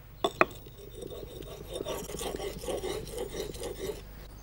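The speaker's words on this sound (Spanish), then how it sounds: "ya afilé el hacha" An axe blade is sharpened in a woodturner's workshop: a couple of sharp metallic clinks, then a run of quick, even rasping strokes, close and fairly quiet.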